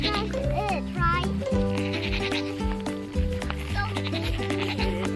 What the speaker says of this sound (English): Listen to the goats go crazy.